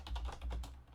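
Quiet, quick keystrokes on a computer keyboard, a short burst of about six taps close by.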